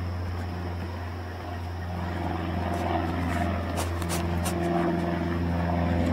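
A steady low drone of an airplane passing overhead hums throughout, moderately distant and gradually swelling, with faint scattered outdoor noises on top.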